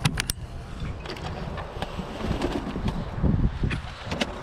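Birmingham Roller pigeons released from their loft on a warm December day, a burst of wing flapping and scuffling with soft cooing and rustling, close and fairly loud with a few sharp claps early on.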